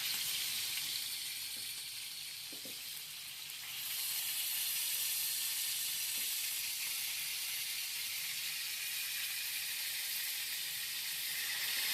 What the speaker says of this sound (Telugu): వీటిని అయితే 2 సైడ్లు తిప్పుకుంటూ బాగా ఫ్రై చేసేసుకోవాలి